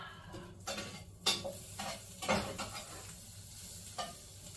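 Eggs fry in butter in a pan, giving a low, steady sizzle. Close, quiet utensil scrapes and taps against the pan punctuate it, with no talking.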